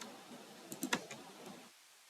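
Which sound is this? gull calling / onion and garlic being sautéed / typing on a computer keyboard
typing on a computer keyboard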